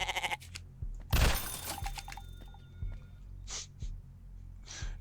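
A goat bleats in the video game Birds Aren't Real, a short loud cry up close, followed by fainter snorting and rustling sounds.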